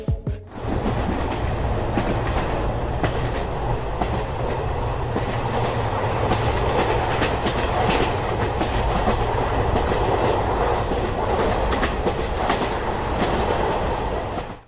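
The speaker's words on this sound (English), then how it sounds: "Even during the monsoon season, trains continue running across India." Train rolling through heavy monsoon rain in India, a continuous loud rumble of wheels and clattering carriages blended with steady rain hiss for the whole stretch.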